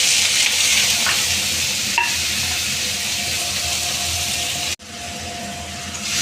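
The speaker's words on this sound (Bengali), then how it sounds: "এখানে আমি পনিরটা এবারে ভেজে নেব হালকা করে" Steady, dense sizzle of paneer frying lightly in white oil in a pan, close and continuous, with a brief stirring knock near the end.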